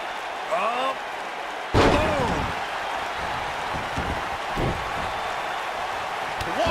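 A heavy wrestling stomp slamming onto the mat in WWE 2K19, one loud thud followed by a rowdy crowd roar and smaller impacts, with an excited commentator talking over it.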